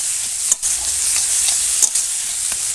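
Radhuni spice tempering crackles in hot oil for a Bengali dish of bhola fish and taro greens, a loud continuous sizzle with two sharp pops or utensil knocks, and no voices.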